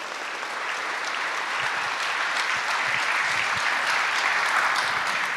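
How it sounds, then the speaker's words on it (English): Audience at a TED event inside Coxsackie Correctional Facility applauds correctional officers, with dense, even clapping from a crowd holding steady throughout. "They get my utmost respect and they too deserve a round of applause."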